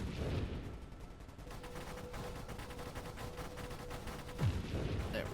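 In the space shooter Nova Drift, a ship fires a steady stream of bullets: a fast, even patter of small shots, quiet and continuous, over a dull game background with a faint tone running through it.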